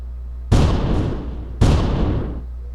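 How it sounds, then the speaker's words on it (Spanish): Two heavy booming gunshots ring out in a video game, each a loud sudden blast with a long decaying tail, about a second apart, alone without talk. "el disparo del enemigo suena efectivamente más lejos. Aquí disparé, mientras que el del jugador suena mucho más fuerte"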